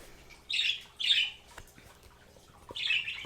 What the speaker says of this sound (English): Sorry about my birds. You already know the birds